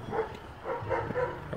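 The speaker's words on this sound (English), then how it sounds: "So the barking's already stopped, that's good" Sasha the dog barks in repeated bursts at a ringing doorbell indoors, fairly close and moderately loud, with short pauses between the barks.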